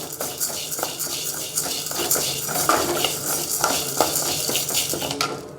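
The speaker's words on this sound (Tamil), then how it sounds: "கொஞ்சம் கூட நம்ம எண்ணெய் சேர்க்காமல் இதேமாரி வானலில் போட்டு நல்லா வறுத்து எடுத்துக்கணும்" Chana dal and urad dal dry-roasted without oil in a kadai for mint podi, a steady rattle and scrape of stirring with a spoon against the pan, close and continuous with frequent metallic clinks.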